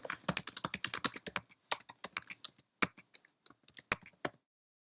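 Fast, crisp typing on a computer keyboard entering HTML code, a rapid run of close, distinct keystrokes with brief pauses, heard alone without talk.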